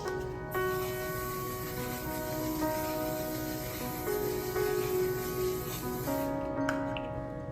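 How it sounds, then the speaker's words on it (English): A continuous fine spray hisses close by for several seconds, with a faint tonal hum running underneath. "One size setting spray."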